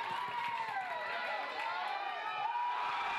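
Packed crowd of Indiana Hoosiers basketball fans in crimson and cream at Nick's English Hut, a Bloomington restaurant, cheering during an IU game against Illinois, a steady dense roar of voices and whoops with a rising shout near the end.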